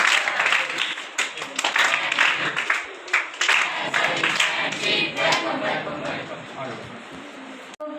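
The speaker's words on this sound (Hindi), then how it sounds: "वेलकम करें ताली बजा के" Audience applause welcoming someone at a Red Cross training programme for schoolchildren, dense clapping sustained across the whole stretch with sharp individual claps standing out and voices mixed in.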